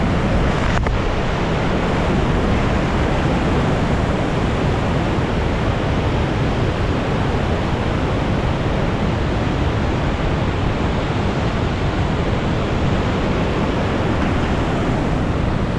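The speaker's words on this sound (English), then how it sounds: "One of the most beautiful waterfalls, and it's pretty amazing." Chilnualna Falls in Yosemite roars as a constant, dense rush of falling water, loud and unbroken from start to finish, with no voices heard.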